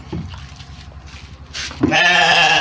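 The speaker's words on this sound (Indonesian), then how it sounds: "Mengombor kambing." A single loud goat bleat breaks in near the end, wavering and nasal, after a stretch of low rustling and murmuring farmyard noise.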